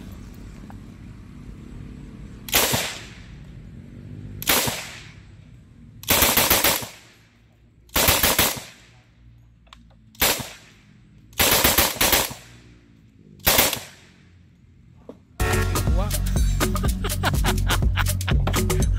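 A .45 grease gun fires seven loud single shots at a Level IIIA bulletproof suitcase on a firing range, spaced about every one to two seconds, followed by a sustained burst of noisy gunfire.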